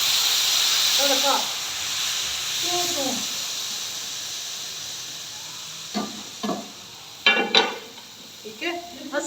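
Tempering for kadhi hisses in hot oil, a strong steady sizzle that fades away, while a voice speaks in short phrases and utensils clatter near the end.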